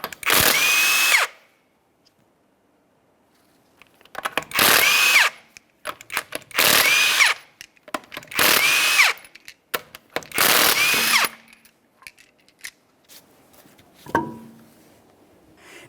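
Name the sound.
power tool removing 19mm lug nuts from car wheel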